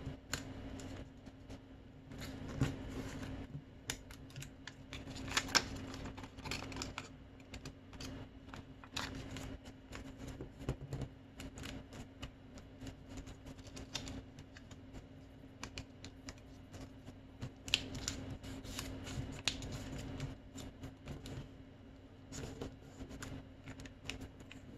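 Paper is folded and creased by hand for an origami joker face, giving soft, scattered crinkles and sharper crisp rustles at close range, with a quiet hum underneath and no speech.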